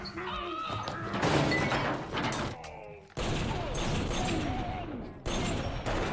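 Gunfire in the action film Blood and Bone, with loud bursts and thuds broken by abrupt scene cuts and mixed with film soundtrack and voices.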